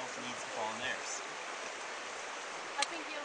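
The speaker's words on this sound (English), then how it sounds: "It's one of the many upland freshwater streams" Water in an upland freshwater rainforest creek flows as a steady, faint rushing wash, with soft murmurs of voices in the background early on.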